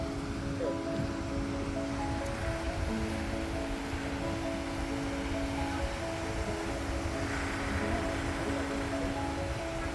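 Ocean surf rolling onto the soft white sand of Myrtle Beach, South Carolina, a steady broadband wash of waves with light wind buffeting, continuous and moderately loud with no talking.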